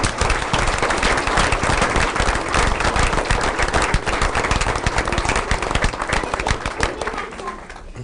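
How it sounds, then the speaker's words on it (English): Sustained, loud applause fills a packed school board meeting room, dense clapping running steadily for eight seconds before thinning slightly at the end, with a few murmured voices beneath. "Let's give all of these teams a big round of applause."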